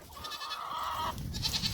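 A goat bleats once in a long, wavering cry, close by on a small farm, followed by shuffling and rustling noise.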